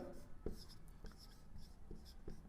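Marker or chalk strokes on a classroom board during a Hindi grammar lesson, a few scratchy bursts spaced across a couple of seconds, close and moderately loud against a steady room background.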